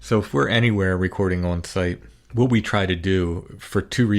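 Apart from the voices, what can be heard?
No distinct noise like a dog, phone or traffic.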